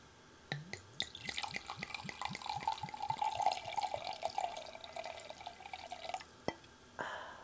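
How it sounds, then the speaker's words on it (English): Wine glugs and splashes from a bottle into a glass in a steady trickling pour, close and quiet, lasting several seconds before it stops. "the sound of wine pouring out of the bottle is very relaxing"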